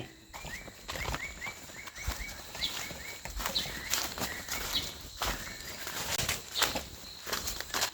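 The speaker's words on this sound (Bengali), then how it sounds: "চারিদিকে হুডেড পিঠটার ডাক শুনতে পাচ্ছি" A hooded pitta calling in forest with dry leaf litter, repeated short paired whistles in a quick series over a busy background of other birds and rustling.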